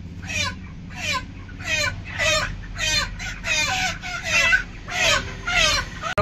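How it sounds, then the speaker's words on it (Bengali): Chickens at a friends' group picnic clucking repeatedly in short rhythmic bursts, fairly close and loud, with a low rumble of background noise underneath and no talk. "মুরগি চুরি করে যাচ্ছি, মুরগিগুলো এখানে"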